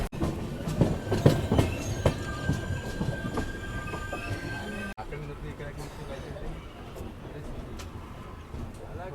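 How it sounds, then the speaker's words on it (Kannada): The Yeshwantpur–Bidar Express pulling into Bidar railway station, loud rumbling wheels with clattering rail joints and squealing brakes close by, the noise dropping partway through to a quieter rolling hum. "ಫೈನಲಿ ನಮ್ಮ ಟ್ರೈನ್ ಆದಂಥ ಯಶವಂತಪುರ ಬೀದರ್ ಎಕ್ಸ್ಪ್ರೆಸ್ ಬಂದು ತಲುಪೈತ್ರಿ ಬೀದರಿಗೆ"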